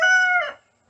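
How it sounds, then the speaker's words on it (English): A rooster on a homestead crows once, close and loud, the call tapering off within a second into near silence. "Them roosters are trying to outdo each other."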